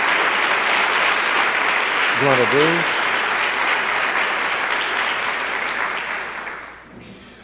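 Church congregation applauding in a steady wash of clapping that fills the room and fades toward the end, with a voice briefly calling out over it.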